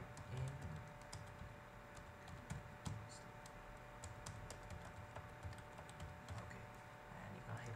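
Rapid, uneven keystrokes on a computer keyboard while entering a link into a blog sidebar, soft clicking at close range over a faint steady hum, continuing through the clip.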